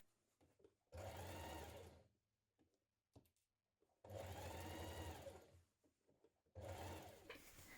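A sewing machine stitches right along an overlocked fabric edge, running in three loud bursts of rapid stitching separated by short quiet pauses with small handling clicks.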